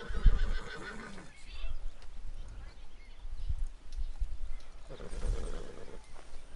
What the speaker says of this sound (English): Yeah, that's Duchess' horse